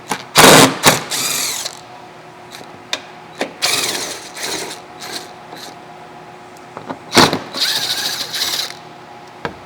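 A ratchet removes 10 mm bolts from the lower engine cover of a 2016 Porsche Cayenne, with irregular bursts of close metallic clicking, a few sharp knocks and tool clatter between, and no talk.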